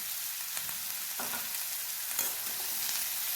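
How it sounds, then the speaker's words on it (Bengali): Cauliflower stalks and mixed vegetables fry in a pan while being stirred. A soft, even sizzle continues throughout, broken by a few light scraping strokes. "ভালোভাবে আবার নাড়াচাড়া করে দিচ্ছি"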